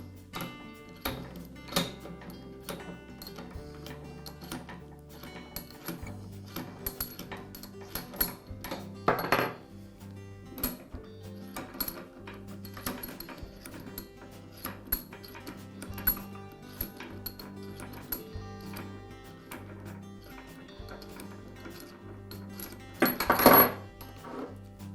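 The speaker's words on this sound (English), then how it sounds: "I'll begin by removing the two locking handles and separating the top half of the vise" Metal clinks, taps and ticks as locking handles come off a Wilton bench vise and its halves are separated, scattered knocks and a louder clatter near the end, close by with no talking.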